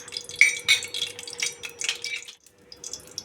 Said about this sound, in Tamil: இது கூட 2 பட்டை 2 ஏலக்காய் சேர்த்து நல்லா வறுத்து எடுத்துக்கிறேன்